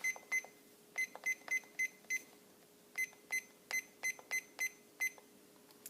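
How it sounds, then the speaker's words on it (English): A kitchen timer being set for fifteen minutes gives a string of short, high electronic beeps, one per button press, in an uneven rhythm, close and clear over a faint steady hum. "Now I'm going to set my timer for 15 minutes."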